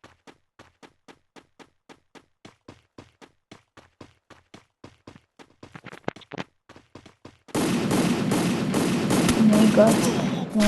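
Gunfire in the battle royale video game Free Fire, with a long series of evenly spaced single shots and a brief burst, then a dense loud stretch of continuous noise and action.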